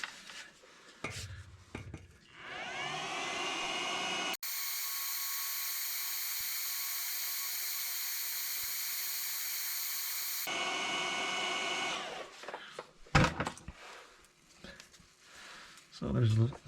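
A heat gun blowing on the oil pan bolts of a Jeep Wrangler JK automatic transmission, a loud steady whining roar in the middle of the clip, with clanks and shuffling before and after.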